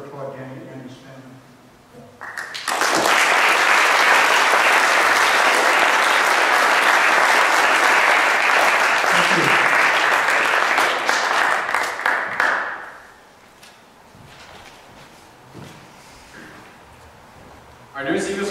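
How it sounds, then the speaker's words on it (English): At an Eagle Scout court of honor, loud audience applause bursts in after brief talk and holds as a dense, steady roar of clapping for about ten seconds before fading, with speech resuming afterward. "I would like to applaud Danny and his family"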